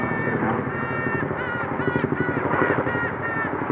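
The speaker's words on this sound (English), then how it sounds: "What kind of bird is that? Trumpet hornbill." A trumpeter hornbill on a cultural tour in Zimbabwe calls with loud, harsh, wailing cries that repeat over steady background noise and chatter.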